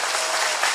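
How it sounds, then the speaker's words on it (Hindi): A crowd clapping at a political rally in Tripura, a short dense burst of applause at a steady level, with no speech on top. "और एक जोरदार ताली हमारे मुख्यमंत्री जी के लिए और विपक्ष भाई के लिए"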